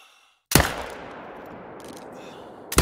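A single sharp rifle shot fired during a hunt in theHunter: Call of the Wild, loud and close, followed by a long rolling echo and then a second crack at the end.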